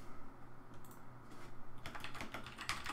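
Typing on a computer keyboard, a run of close, quick key clicks that starts sparse and turns into a dense burst in the last second, with no talking.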